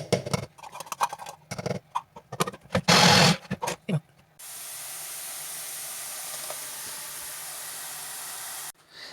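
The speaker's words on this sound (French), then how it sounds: "je la rajoute pour la mixer et avoir une texture homogène" A blender whirs steadily, puréeing an eggplant mixture with a splash of added water for aubergines à la parmigiana, following a few seconds of clattering kitchen sounds and handling noise.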